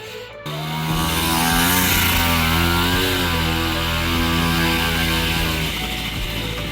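A Honda XR Baja dirt bike engine catches after a brief kick start and runs loudly, a buzzy two-stroke drone with slight rises in revs, close by.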